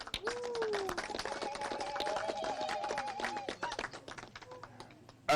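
An audience at a Salam Charity health centre event in Soriti claps in scattered, fairly faint, uneven bursts that fade toward the end, with a voice briefly audible among the claps.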